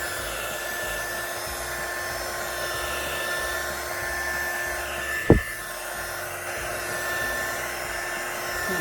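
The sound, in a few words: heat gun heating resin on a galaxy tumbler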